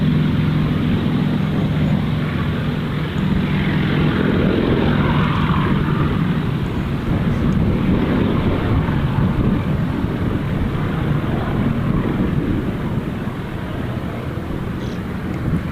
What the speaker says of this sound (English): So that's a Joy Flight. That will come back in a little bit. That's a Joy Flight yak display.